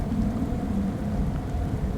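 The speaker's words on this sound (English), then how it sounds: "the rain and storm begins to move through again now" Steady rain with a low thunderstorm rumble rolls on without a break, a dense wash of falling water and distant storm noise with no voices.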